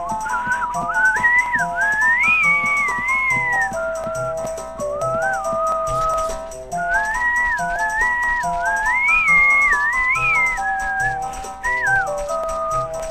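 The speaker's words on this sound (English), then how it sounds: "I should probably stop whistling." A person whistles a wandering melody up close while playing The Legend of Zelda: Ocarina of Time, in steady, loud phrases with a short break midway, over faint game sounds.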